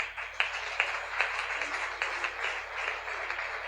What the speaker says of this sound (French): Alors acclame le Seigneur